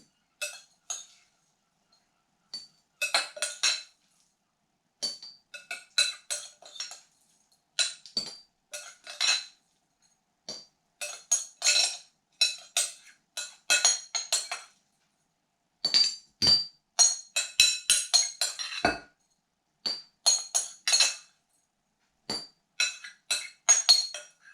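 Olives are packed by hand into a glass jar, giving light, irregular clinks and taps in scattered clusters with quiet gaps between them, close by and with no voices.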